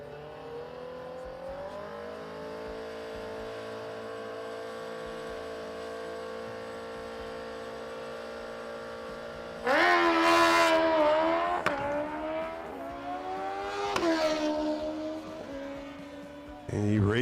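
A drag race car runs the quarter mile at a drag strip, a steady engine drone giving way to a sudden loud launch and rising, wavering revs, with an announcer talking throughout.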